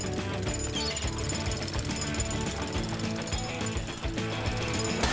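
A jackhammer drilling pounds continuously and loudly in a rapid, steady rhythm, with metallic rattling throughout and no speech.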